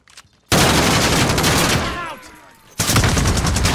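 Rapid automatic gunfire in a video game, loud, dense bursts that stop briefly and then resume.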